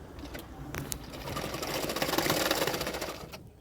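A sewing machine runs a steady stitching pass on hook-strip fabric for a double katori blouse, whirring continuously and building slightly in loudness before stopping near the end.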